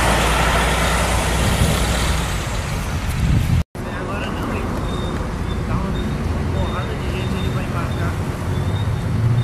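An interstate bus pulls away from a busy Brasília bus terminal, its engine rumbling loudly and steadily amid surrounding traffic, with someone talking over the noise and a brief dropout partway through.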